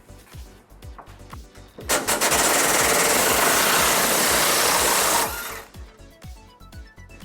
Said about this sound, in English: we're going to remove this bolt towards the rear of our frame using an 18mm socket.